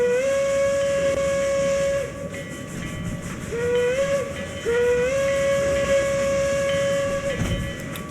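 A narrow-gauge 3 ft logging-line steam train in a train simulator game sounds a long wavering whistle several times over steady rolling and engine noise.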